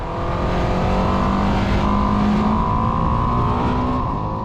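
Ducati Streetfighter V2 S motorcycle engine accelerating loudly and close, a strong continuous roar climbing smoothly in pitch from low revs, with no talk.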